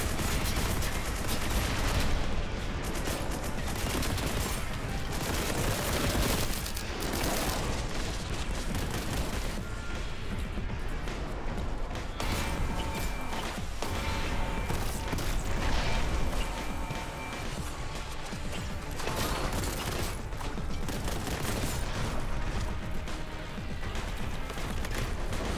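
Kraken bolt gunfire from a bolt weapon in the shooter game Warhammer: Boltgun during a final battle, a dense, continuous barrage of loud shots and impacts with no pauses.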